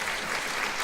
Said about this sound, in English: You can give them an applause, please.